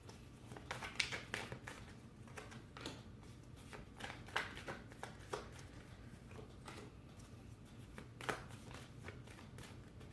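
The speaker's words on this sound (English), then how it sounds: "I turn over the cards after I pull out all the cards for the spread" Tarot cards being drawn and laid out for a spread, soft repeated card slides and flicks over a steady low room hum, light and fairly close.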